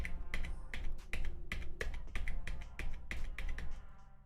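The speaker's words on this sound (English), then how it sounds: "calm down over there with your keyboard. Click, click, click, click, click." Sharp, irregular clicks from a computer keyboard tap out at a quick, uneven pace, close and fairly loud with no talk over them.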